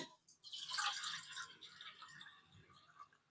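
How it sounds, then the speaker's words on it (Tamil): Water splashes and trickles steadily into a pan of jaggery, a soft, close pouring sound that tapers off into light dripping. "முக்கால் கப்பு தண்ணி ஆட் பண்ணிக்கணும்"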